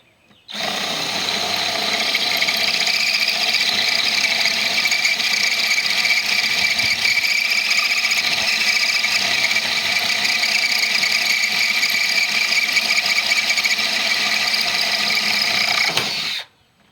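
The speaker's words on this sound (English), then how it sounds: "I've got this and a drill, basically drilling it out." A high-pitched power drill with a dull bit whines and squeals steadily for about sixteen seconds, loud and close, with a harsh grinding edge and no talking.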